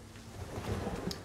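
Steady rain with low rumbling thunder in a stormy level of the video game Crash Bandicoot 3: Warped on PS4, a continuous wash of noise at moderate loudness with no talk.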